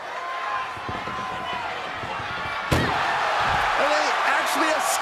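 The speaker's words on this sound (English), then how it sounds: "Trying to at least slam one door shut" A loud slam as an ambulance door is shoved shut during a WWE 2K25 ambulance match, a single sharp impact rising out of steady arena crowd noise, which stays elevated afterward.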